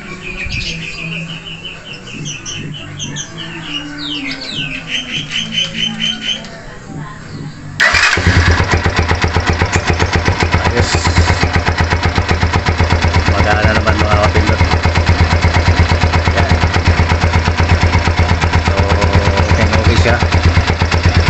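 A motorcycle fitted with a new spark plug and a no-limit RPM racing CDI fires up abruptly after a quieter stretch with faint birdsong, then settles into a loud, steady, close idle that runs to the end.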